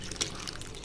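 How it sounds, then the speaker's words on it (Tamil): Ground masala paste poured into buttermilk, a brief soft trickle and splash of liquid close by with one small clink near the start, lasting under a second. "இப்போ நான் இதை முதல்ல அரைச்சி வச்சதை ஊற்றிக்கிறேன்."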